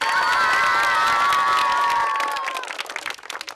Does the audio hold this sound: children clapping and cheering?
yes